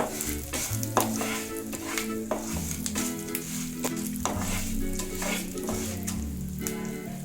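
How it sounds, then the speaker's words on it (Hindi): White sesame seeds and dal roast in hot oil in a pan for masala rava idli, giving a loud, continuous sizzle layered with frequent stirring scrapes, close up with no talking. "अभी मैंने यहाँ पे 2 टेबलस्पून तिल ली थी व्हाइट कलर की, ये मैं इसमें डालूंगी। इसे भी हम रोस्ट कर लेंगे।"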